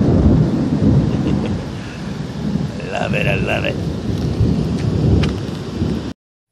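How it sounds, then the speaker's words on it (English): A thunderstorm rolling in over a hiking spot, with heavy rain pouring steadily and low rumbling thunder cracking through the downpour, while a person speaks briefly over the storm. "sound of thunder cracking in the background."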